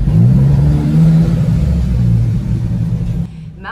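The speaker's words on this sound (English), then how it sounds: "iconic growl. You can always hear if it's a Maserati passing." A Maserati MC20 supercar engine gives a deep, loud growl up close, rumbling steadily with slight rises in pitch before cutting off abruptly near the end.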